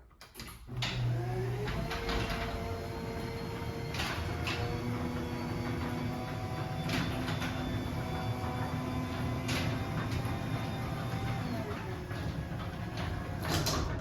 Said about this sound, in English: It has a lot of vacuum noise. So we'll run the door.